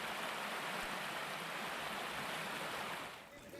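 Heavy rain and a swollen, flooding river in Muzaffarpur, Bihar, make a dense, continuous rushing wash of water that holds steady before dipping briefly at the end.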